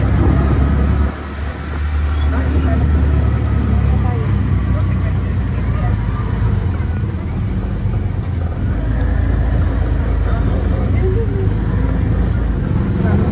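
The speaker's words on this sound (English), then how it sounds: "Tuk Tuk ride." A tuk tuk rides through town traffic, its small engine rumbling and rattling continuously, close and fairly loud, with road and traffic noise around it.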